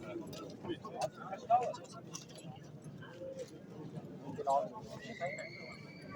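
Horses at a livestock market, with a couple of brief whinnies and faint hoof clip-clops in the background under steady bargaining voices and crowd chatter.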